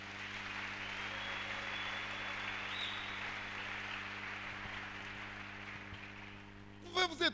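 A church congregation at a French-speaking service applauds in praise of the Lord, a steady wash of clapping over a low electrical hum, with a voice breaking in at the very end.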